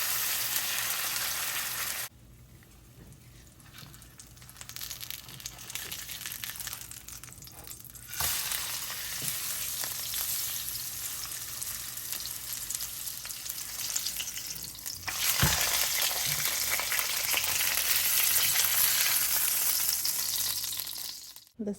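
Salmon fillets searing skin side down in a hot pan, a continuous loud sizzle and crackle of frying that drops back briefly and then returns at full strength, with no voices.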